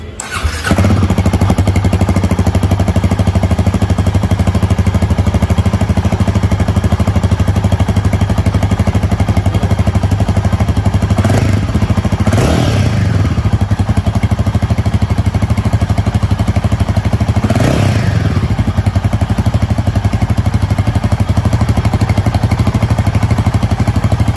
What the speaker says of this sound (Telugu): ఒకసారి ఎగ్జాస్ట్ నోట్ కూడా విందాం.